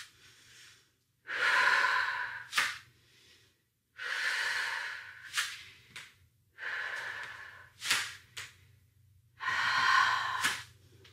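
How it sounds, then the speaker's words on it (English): Heavy breathing during a stability ball workout: several loud, close exhalations and sharp inhales in a slow, irregular rhythm, with brief quiet gaps between breaths. "Breathe."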